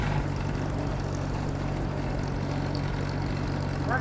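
An Oliver tractor engine runs steadily at a low, throbbing idle-like pace throughout, close and continuous, with a faint whine above the rumble and no one speaking.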